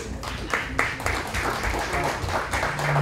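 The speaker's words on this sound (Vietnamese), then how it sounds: "Cho anh một tràng pháo tay." Applause from the audience at a fundraising dinner party in Orange County, a dense wash of clapping over steady background noise and a low hum, moderately loud throughout, with no clear speech.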